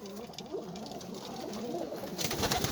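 Flying pigeons coo softly in low, rolling calls against a quiet background, with light rustling noise throughout.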